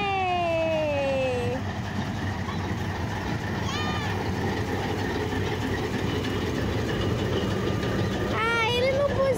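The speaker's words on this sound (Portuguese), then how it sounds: "o trem foi embora" An amusement road train rolls through a park, its engine rumbling steadily at moderate distance while tonal whistling sounds sweep past and people talk nearby.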